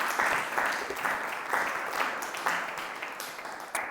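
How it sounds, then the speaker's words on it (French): A church congregation at a French-language Sunday service applauds warmly, a dense, continuous clapping that swells in waves for several seconds with no talk. "On peut applaudir le Seigneur."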